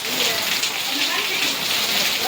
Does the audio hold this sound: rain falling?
yes